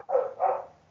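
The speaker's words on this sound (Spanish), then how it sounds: "justo está mi perro ladrando" A dog gives a single short, double-pulsed bark, close and fairly loud, with no other sound around it.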